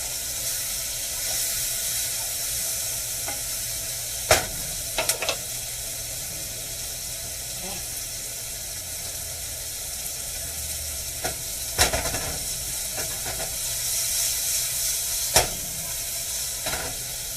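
Onions for a balsamic onion marmalade frying and being stirred in a pan beside filet mignon, a steady close sizzle broken by several sharp clacks of the spoon against the pan, with no talking.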